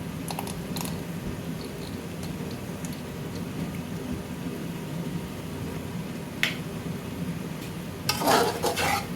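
Ketchup being stirred into a chicken pasta masala, a soft continuous scraping and sizzle in the pan with a few sharp clinks of the utensil against the metal near the end.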